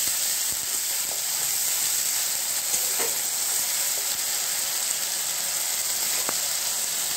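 Onion and garlic paste sizzles and fries steadily in hot oil for a home-style fish curry, a continuous close crackling hiss with occasional stirring.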